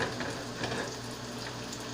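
Rice being stirred with a spoon in a pot, scraping loose the grains stuck to the bottom, sounding as a steady soft sizzle and scrape that holds continuous and fairly close throughout, with no voices.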